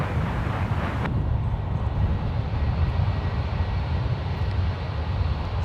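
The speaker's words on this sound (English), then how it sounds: "Flight 738 headed back to Doha on A350 1000. Currently taxiing up to runway 28 left or right for departure today." A Qatar Airways Airbus A350-1000 taxis toward the runway at San Francisco International Airport, a steady loud jet engine whine and rumble with wind noise, unbroken and close for the whole stretch.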